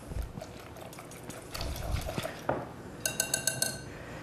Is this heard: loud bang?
no